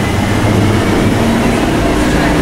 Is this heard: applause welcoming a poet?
no